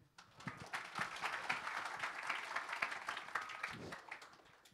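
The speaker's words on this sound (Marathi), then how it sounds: "आता ना टाळ्या आल्या" An audience at a lecture hall event breaks into applause, a dense patter of many hands clapping that swells and holds for a few seconds before tapering off, fairly faint.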